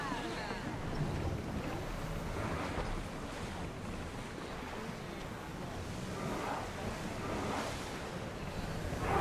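A sailing ship in Assassin's Creed Odyssey cuts through open sea, with a steady wash of waves, rushing water and wind that stays loud and constant throughout.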